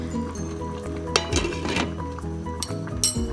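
A lid set over a pot of simmering moringa leaves, metallic clinks and a clattering scrape close by, with a brief rushing burst of steam.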